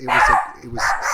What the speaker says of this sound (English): sorry, that's my dog barking here.